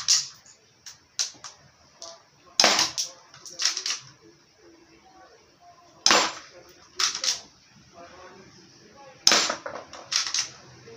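A Q5 MP9 toy gun firing indoors, with sharp snapping shots in small clusters at close range and people talking in between.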